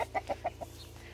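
A rooster and three hens on a farm cluck in a quick run of five close, bright clucks that fade into a quieter farmyard background.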